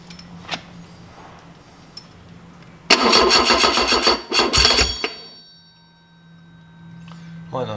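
A rebuilt Ford 2.0L Pinto engine with a Piper BP300 rally cam and heavily advanced ignition in a 1969 Ford Capri cranks and catches with a loud, rough burst of running, stumbles and dies after about two seconds, then falls quiet apart from faint clanks.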